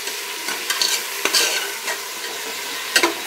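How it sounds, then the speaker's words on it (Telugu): Radish and brinjal pieces fry in a little oil, a steady close sizzle broken by several sharp scraping stirs of a spoon against the pan, with no voices. "ఇది కొద్దిగా ఆయిల్తోనే కొద్దిగా వేగి కొద్దిగా ఫ్రై అవ్వాలి"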